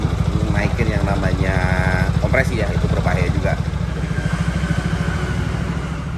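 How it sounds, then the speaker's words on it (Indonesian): A motorcycle engine idles steadily to burn off carbon deposits, a loud, even, close thumping that runs throughout while someone talks over it. "Dari situ motor di running kurang lebih 30 menit."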